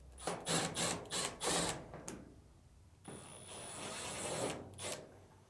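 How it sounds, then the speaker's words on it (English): A few short bursts of clicking and scraping as a screwdriver removes Phillips screws from the back of a Samsung dryer, followed by a steadier mechanical whir nearby. "first thing we need to do is get access to the back of the dryer to remove 2 Phillips screws"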